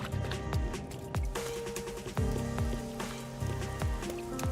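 Steady rain falling in the video game Rain Code, a continuous patter over a city with pipes, layered with repeating soft tonal game music and plucked notes, moderately loud.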